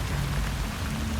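Steady rain falls in a continuous, even hiss with dense pattering, close and moderately loud, with no other sounds.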